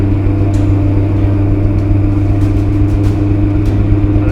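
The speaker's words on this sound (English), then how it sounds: "Then we hit full power to take off" Light aircraft engine at full power for a takeoff on grass runway 26: loud, steady, deep droning roar with strong low harmonics, heard from inside the cockpit and holding constant throughout.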